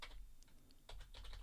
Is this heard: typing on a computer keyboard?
yes